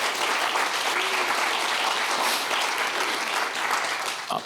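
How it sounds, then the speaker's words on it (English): An audience gives a warm round of applause at a wellbeing and trauma talk, with dense, even clapping filling the room for several seconds before it begins to fade. "So let's give Michelle a nice round of applause for that."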